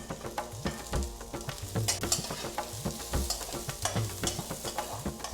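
Chili, ginger, garlic and onions fry in coconut oil in a pan, a steady close sizzle broken by repeated scraping stirs of a spoon across the pan's base.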